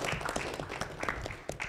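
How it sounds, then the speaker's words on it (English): A small audience claps, scattered hand claps in an uneven patter, fairly quiet and brief. "Feel free to clap for our presenters."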